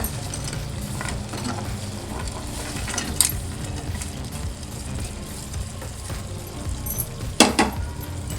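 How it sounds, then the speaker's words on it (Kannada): Fried paneer tossed into hot ghee for paneer ghee roast, a continuous close sizzle with stirring scrapes and a couple of sharp metallic clinks from the spoon against the pan. "ಸೊ ಈಗ ನಾವು ಫ್ರೈ ಮಾಡ್ಕೊಂಡಿರೋ ಪನ್ನೀರನ್ನು ಇದ್ರೊಳಗೆ ಹಾಕೋಣ"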